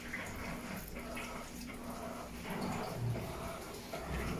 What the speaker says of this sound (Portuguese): Esse barulho de água no chão é dela, que a mangueira ela tá emendada com outra